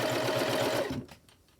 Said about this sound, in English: So I am going to sew this together